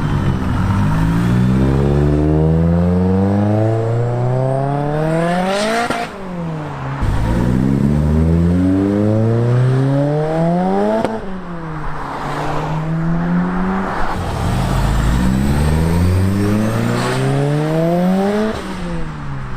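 Three Ford Sierra Cosworths accelerate hard away from a car show on the Isle of Wight, each engine revving loudly up through the gears with rising pitch, then dropping at the shifts, close by and repeating in waves.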